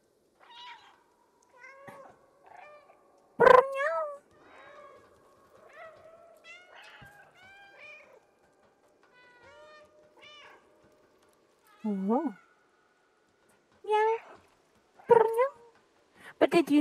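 A cat in the video game Stray meows repeatedly in short, varied calls, some louder and sharper than others, spaced across a quiet background with a brief spoken exclamation.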